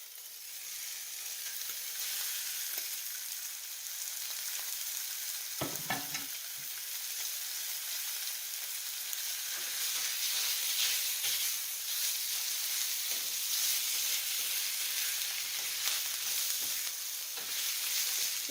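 Sausage hits a pan of onions already cooking with black pepper, giving a steady, close sizzle and hiss throughout, with a few clattering stirs and knocks against the pan partway through.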